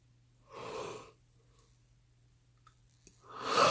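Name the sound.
yawn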